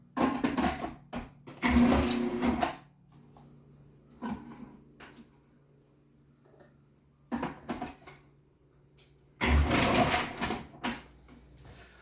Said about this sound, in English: So what I do with the cabbage is, I take the coarse blade and I just run it all through twice.